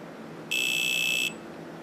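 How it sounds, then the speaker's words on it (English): A Bloc Balancer lithium-ion battery balancer's high-voltage alarm sounds as a single shrill electronic buzz lasting under a second over a faint background hum. "Alright, let's crank it up and we'll listen to the high voltage alarm."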